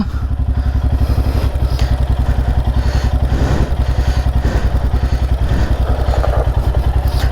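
A motorcycle engine chugs in a fast, steady rhythm with clattering thumps as the bike rolls aboard the Muppane launch ferry, loud and close throughout, with no talking.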